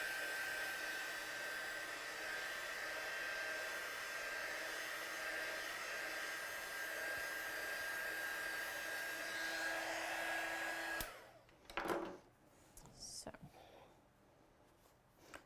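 A hair dryer blows steadily and close on a stamped craft card for about eleven seconds before cutting off abruptly, leaving faint handling noises and quiet talk.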